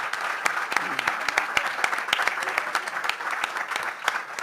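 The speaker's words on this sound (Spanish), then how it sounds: "un aplauso para Alarcón" An audience applauds for Alarcón, steady dense clapping with sharp individual claps standing out near the mic, continuous for several seconds without letting up.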